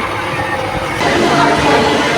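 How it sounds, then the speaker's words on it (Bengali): A train at Howrah station, Kolkata, rumbles and rattles, the low mechanical noise swelling suddenly partway through as it pulls away, close and loud. "এবারে ট্রেনটা ছেড়ে দিল"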